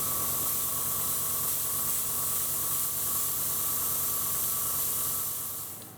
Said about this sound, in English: Spray that whole area silver.